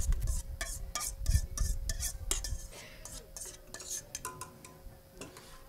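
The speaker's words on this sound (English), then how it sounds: "Stir it up." A utensil stirs corn puree in a metal pot in a chef's kitchen at an olive festival, making close scraping and clinking strokes in an uneven rhythm that thin out toward the end.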